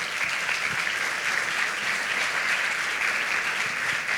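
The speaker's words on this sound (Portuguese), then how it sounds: "E eu queria que você aplaudisse o Senhor pela vida do pastor Lucas." Church congregation applauding steadily, a dense, even wash of many hands clapping throughout, with no voices over it.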